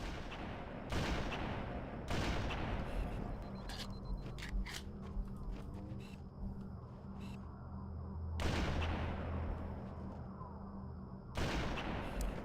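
Gunfire from a weapon in the video game Halo: Campaign Evolved, sharp loud bursts at intervals over a dense background of game ambience and smaller clicks, with no talking.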